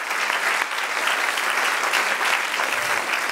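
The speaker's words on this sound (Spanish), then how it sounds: "Dar un aplauso al Señor." Applause from a church congregation giving praise to the Lord, steady dense clapping from a crowd filling the room evenly, loud and sustained with no pauses.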